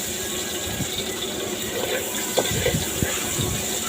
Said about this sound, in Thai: ใส่พริกนะกระเทียมหน่อยนะไม่ต้องใส่เยอะ ผัดให้หอมนะทุกคน